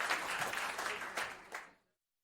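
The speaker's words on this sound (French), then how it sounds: "Vous pouvez applaudir avec les spectateurs" Audience applause at a circus show: a dense wash of many hands clapping, loud and sustained, with a few brighter bursts before it cuts off abruptly near the end.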